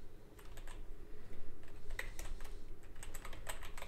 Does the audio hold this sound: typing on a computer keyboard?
yes